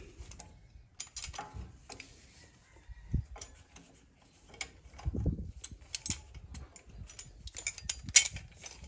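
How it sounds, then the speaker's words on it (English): A Lisle tool pressing back the brake caliper pistons on a third-generation Toyota Tacoma during a front brake job: irregular metallic clicks and ticks with occasional low thuds, close and fairly quiet. "we can push back the pistons with this Lyle tool from Lyle, got it from Summit"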